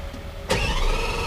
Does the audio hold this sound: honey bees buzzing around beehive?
no